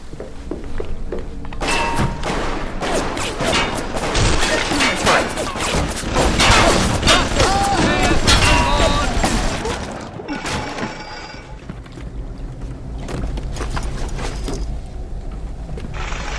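Machine gun fire in BioShock Remastered, loud rapid bursts of shots with thuds and impacts packed densely over the first ten seconds, followed by quieter scattered clatter.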